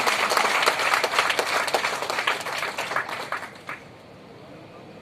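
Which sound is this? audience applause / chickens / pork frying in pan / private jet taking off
audience applause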